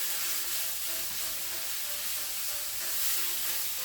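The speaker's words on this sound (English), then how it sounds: "I'm going to crank my meat up to high, and you want to break this up into little pieces" Ground pork frying on high heat for Thai basil pork, a steady, loud, dense sizzle and hiss that runs without pause and sits close up.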